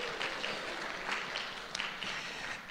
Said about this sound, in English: So another round of applause for our kiddos.